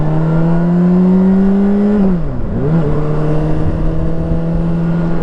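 A 2011 Honda CBR600RR motorcycle engine holding a loud, steady high-pitched drone that dips sharply for a moment as the revs drop, then climbs back and settles, heard close and continuous with no talking.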